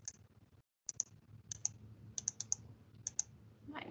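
Calculator keys are pressed to enter numbers for a percent subtraction problem, producing about a dozen sharp, close clicks in small irregular clusters over a faint background hum, with no talking.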